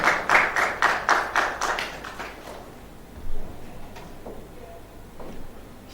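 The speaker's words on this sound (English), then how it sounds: "ladies and gentlemen, please give applause to Mr. Agastya." An audience at the Airlangga International Conference 2022 seminar applauds in loud, rhythmic clapping that fades out after about two seconds, then a quiet room with faint knocks and rustles.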